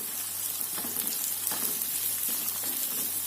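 Green chilies, bird's eye chilies and curly red chilies sizzling steadily in a hot pan with pete beans, a continuous close frying hiss with faint stirring.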